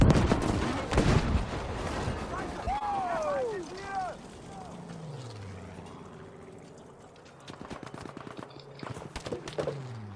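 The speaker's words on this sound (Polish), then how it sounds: "Chłopy do mnie tam strzelają" Bursts of Battlefield V gunfire, rapid shots and booms near the start and again toward the end, with a sweeping whistle and game sound effects in between.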